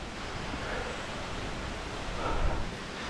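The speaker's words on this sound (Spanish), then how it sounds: "Bienvenidos, amigos, a la cascada de los Huenchos." Waterfall at Los Huenchos in Calvillo, Aguascalientes, giving a steady, broad rushing roar of falling water that swells slightly near the end, with no voices.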